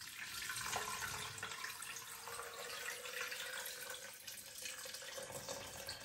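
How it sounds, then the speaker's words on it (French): Water poured into a Cecotec blender jar, a steady splashing gush with a rising pitch as the jar fills, close and soft, running throughout with no speech. "J'y rajoute de l'eau."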